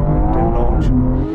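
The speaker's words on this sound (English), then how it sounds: "This pull was lovely. You can always rely on a Porsche for pull away." A Porsche 911 GT3 accelerates hard in a drag race against a BMW M4 CSL, its engine a loud, sustained, close roar with steady harmonic drone throughout the short burst.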